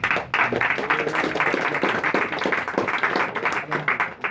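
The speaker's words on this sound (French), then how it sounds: "Vous pouvez l'applaudir bien fort." Spectators at a live magic show clap loudly and steadily for a volunteer called up on stage. The applause is dense and continuous throughout.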